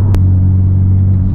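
A Honda Civic Type R engine in R mode gives a steady, loud, low droning rumble from inside the car, with no talk.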